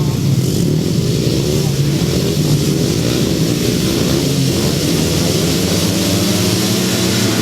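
At an international grasstrack meeting, 250cc solo motorcycles rev loudly at the start line. Their engines make a steady, close, buzzing drone that fills the whole stretch without a pause.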